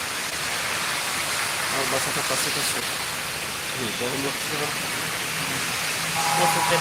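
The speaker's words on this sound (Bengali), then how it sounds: "বৃষ্টি আবার বাড়িছে কমে গেছিল" Rain falls steadily and densely outdoors, a continuous broadband hiss at constant loudness, with a voice talking faintly beneath it.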